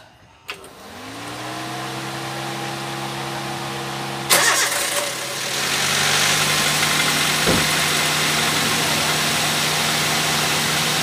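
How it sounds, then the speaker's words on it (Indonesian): A car engine cranks over and catches, then settles into a steady idle that runs on for several seconds, loud and close, with a brief knock partway through; the car's battery is fitted with a battery-preserving device. "Lalu saya akan start mobil ini."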